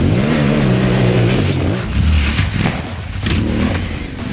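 A Yamaha T7 World Raid adventure motorcycle fitted with an Akrapovic slip-on muffler and Pirelli Scorpion off-road tyres rides on dirt, its engine droning loud and close with rising and falling revs throughout.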